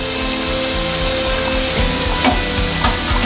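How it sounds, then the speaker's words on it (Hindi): Khurmi, a traditional Chhattisgarhi sweet, deep frying in oil over a low flame: a dense, steady sizzle and bubbling up close, with rhythmic low thumps and a few clinks as the pieces are turned, no voices. "खुरमी को इस तरीके से फ्लिप करते हुए दोनों तरफ फ्राई कर लें।"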